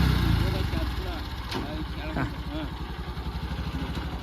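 A farm vehicle's engine runs steadily in reverse gear, a close mid-pitched idle-like drone with a rhythmic throb, heard beneath people talking.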